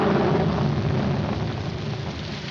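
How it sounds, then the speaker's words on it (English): Steady rain, a broad continuous hiss with a low rumble beneath, loud and unbroken, no voices. "It's going to rain."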